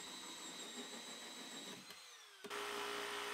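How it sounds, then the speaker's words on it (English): A power drill with a 76mm hole saw whines steadily, dips briefly, then surges back louder and fuller as the hole saw bites in; no voices. "I'm going to drill a hole with my 76mm hole saw bit"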